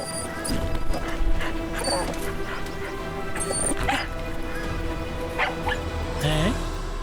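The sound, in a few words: cartoon detective dog barking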